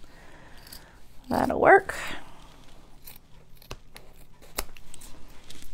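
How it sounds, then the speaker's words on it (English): Scissors snip a small piece from craft scrap at a table, a couple of quick close cuts, followed by faint handling noises and a brief spoken remark. "Let's cut a little piece here. I've got a little scrap area right here that I can cut from."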